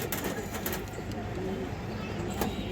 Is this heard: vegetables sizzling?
no